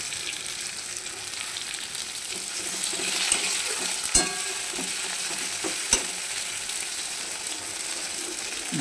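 Onion, tomato and chili sizzle steadily in a frying pan, a continuous hiss punctuated by a few sharp clinks of stirring against the pan.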